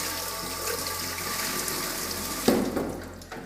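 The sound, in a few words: water running from tap, rinsing Jura coffee machine part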